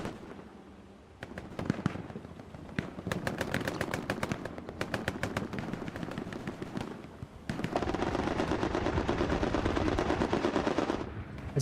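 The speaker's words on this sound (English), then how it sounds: "As a strafing run comes in" Rapid bursts of strafing gunfire from an aircraft run in Hell Let Loose over Carentan, loud and sustained, with rattling volleys and a dense stretch of continuous firing in the second half.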